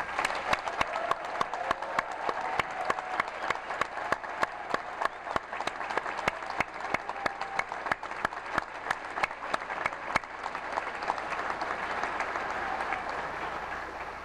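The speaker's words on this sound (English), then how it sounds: "Let's hear how proud the families and supporters are of these graduates today with a round of applause." Families and supporters clap for graduates at a Quincy College commencement, a sustained, even wash of many hands with sharp individual claps standing out, heard from a moderate distance in a large venue.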